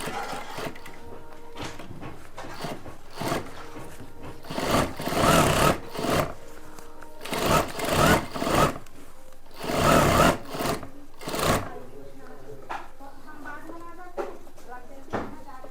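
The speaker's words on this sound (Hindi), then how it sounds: "और ऐसे सेंटर से सिलाई को स्टार्ट कर लेंगे।" A sewing machine stitches a kurta in several short bursts of rapid whirring separated by pauses, moderately close, with a person talking in between.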